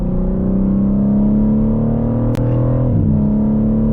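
BMW G80 M3 driving on backroads, heard from inside as a loud, steady engine drone with deep rumble that shifts pitch slightly near the end, with no voices over it.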